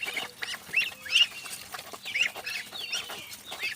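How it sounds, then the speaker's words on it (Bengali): One-month-old Chinese duck ducklings kept in confinement: soft, short peeping calls that repeat at irregular intervals over a quiet, low background. "চীনা হাঁসের বাচ্চা চীনা হাঁস পালনের সুবিধা এখানে"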